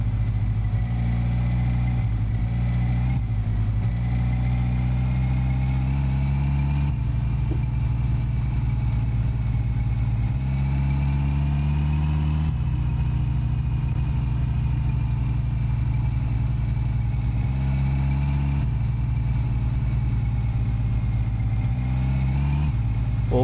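An old car's engine drives along in the My Summer Car game, a loud rumbling drone close by that rises and dips as gears shift and the throttle changes, alone with no talking.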